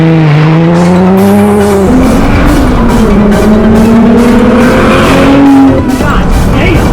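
A MK4 Toyota Supra with a 2JZ engine revs hard and climbs through gears, a loud close droning exhaust with rising pitch and a brief tire squeal, with voices heard in the mix.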